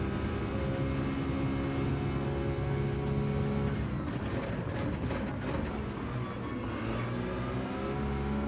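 A Porsche race car engine in Gran Turismo 7 drones and revs continuously through the scene, loud and dense with a rising pitch, and other cars blend into the mix.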